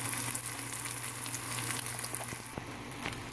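A cheese omelette sizzles in a greased pan just after being flipped, the frying a steady close hiss with small crackles and pops, heard without any voices.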